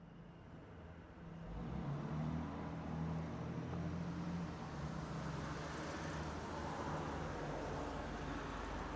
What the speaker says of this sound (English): The only thing I was able to hear were the hum of the car's air conditioning and the chirping of insect and frogs.